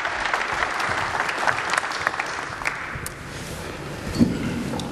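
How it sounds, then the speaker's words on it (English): An audience at a London press conference greets Maersk Line CEO Eivind Kolding with a warm round of applause. Steady, sustained clapping fills the room at moderate loudness, with a few sharper claps standing out. "If you can give him a warm round of applause"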